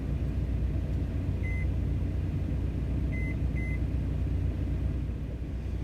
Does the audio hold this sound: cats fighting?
no